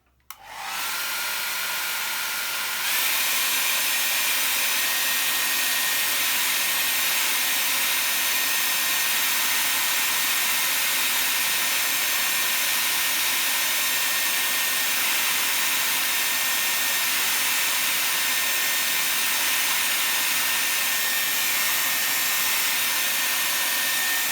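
Hair dryer blowing steadily on a freshly painted dark flowers artwork, a loud continuous whooshing roar that starts after a brief quieter moment and runs unbroken to the end, with no talking.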